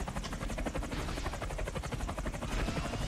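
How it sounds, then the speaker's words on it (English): Helicopter in the PS2 James Bond game From Russia with Love, its rotor thumping in a fast, steady, dense beat throughout, close and continuous with no talk. "Everybody hears the helicopter, but nobody comes to help the helicopter shoot and kill James Bond."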